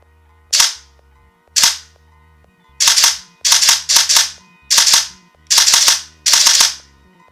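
Airsoft M4 rifle fitted with an ASCU gen 3+ trigger unit and run on a 7.4V 30C LiPo battery fires loud, close, crisp shots: two single shots, then several short rapid bursts, with no voices.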